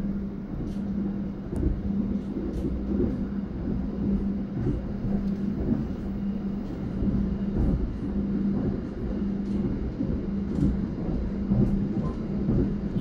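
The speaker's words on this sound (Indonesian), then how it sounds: "Ya, seperti inilah balapan kereta api." Continuous rumbling of two trains racing on double track, with rhythmic clacks of wheels over joints and a steady low drone, no talking.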